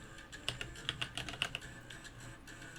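Rapid typing on a computer keyboard: a quick run of sharp, close plastic key clicks in an uneven rhythm, with a few louder keystrokes standing out over a quiet room background.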